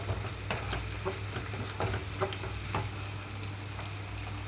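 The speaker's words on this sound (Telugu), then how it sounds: "ఇప్పుడు ఇందులో అల్లం వెల్లుల్లి పేస్ట్ వేస్తున్నాను మీడియం ఫ్లేమ్లోకి టర్న్ చేసి వేయించుకుంటున్నాను" Ginger garlic paste frying on a medium flame for a Tamil Nadu style potato fry, a soft, steady sizzle with light stirring taps, close and without talk.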